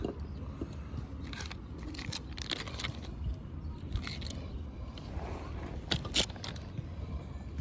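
Wet, smacking chewing and crunchy bites from a cat eating wet food, close up, in quick irregular bursts.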